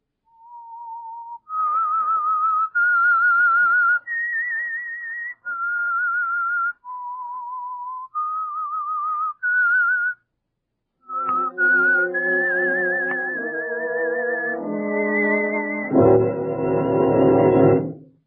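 A lone whistled melody of steady sustained notes, the radio theme signal of The Whistler, then a pause before a fuller orchestral passage carries the tune on.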